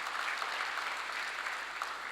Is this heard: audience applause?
yes